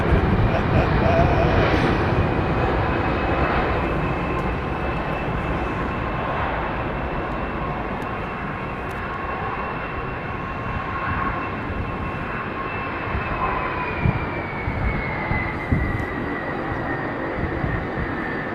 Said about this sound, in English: I love that big old One World Qatar 777 coming in behind him as well.